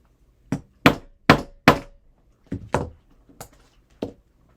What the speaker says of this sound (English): Give it a couple more whacks.